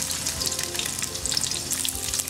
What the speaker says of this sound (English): I have my oil that is heating in my pot. And what I'm going to do is add some chopped onions and pepper.